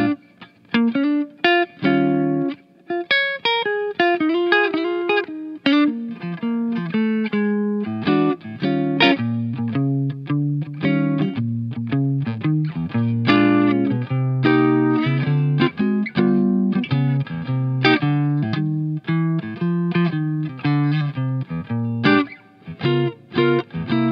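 Heavily distorted electric guitar played straight into Friedman Small Box and Suhr PT100 modded Plexi-style amps with no pedals, loud and continuous riffing with chunky chords and single-note lines, no talk.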